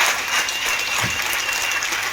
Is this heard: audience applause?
yes